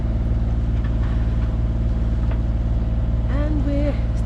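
Steady engine drone of a sailing boat motoring under engine during an overnight passage off Scotland, a constant low throbbing hum that stays loud throughout, with a brief voice-like sound over it near the end.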